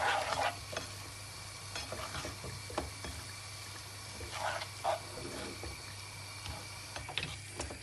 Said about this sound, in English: you put them in the pan al dente, and then give them a stir and a swirl